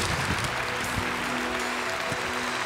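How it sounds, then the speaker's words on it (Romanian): A concert audience at a 60th-anniversary show applauds loudly and steadily, a dense wash of clapping from a large crowd that fills the whole stretch with no break. "Dați-vă rog aplauze lui Gheorghe Zopa."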